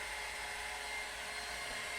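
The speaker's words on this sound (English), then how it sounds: "I use the cold shot on my hairdryer" A hair dryer runs on its cold shot setting for a second pass over a styled beard, a steady close whooshing roar of air with an even motor whine, constant and uninterrupted, no talk.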